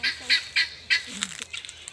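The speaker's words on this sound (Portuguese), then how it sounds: "Aqui as galinhas de Angola aqui." Guinea fowl on a rural farm give a string of harsh, rhythmic squawking calls, several close, loud bursts followed by quicker, fainter chattering from the flock.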